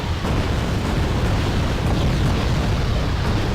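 A Buratino thermobaric rocket launcher firing volleys into a forest in a strategy war game: a sustained, dense roaring rumble of rocket fire and explosions, loud and steady with no pauses.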